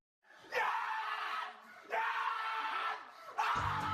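A man yelling and cheering loudly at a Georgia Bulldogs football game, three long whooping bursts separated by short pauses, close and strident, with a low thump at the final burst.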